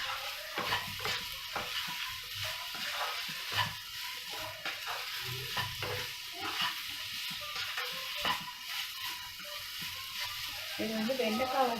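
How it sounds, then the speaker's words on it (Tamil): Okra (lady's finger) sautés in a pan over a low flame, giving a continuous soft sizzle broken by intermittent scraping and stirring strokes, with occasional faint background sounds. "இது வெண்டைக்காய் வதக்கிறதுக்கு நீங்கள் சிம்மிலே தான் வதக்கணும்."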